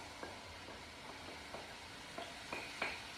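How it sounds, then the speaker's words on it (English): Beef mince and blended vegetables stirred together in a hot pan for Jamaican beef patties, a quiet sizzle broken by a series of soft scraping strokes, growing a little louder toward the end. "Then we're going to mix that all together,"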